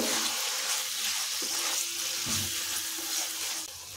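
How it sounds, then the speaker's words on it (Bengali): Tomato sauce is stirred into vegetables in a hot pan for chowmein. A constant sizzle runs throughout, with a few soft scraping strokes of the spoon. "এখন সসটা খুব ভালো করে সবজির সাথে মিশিয়ে নেব"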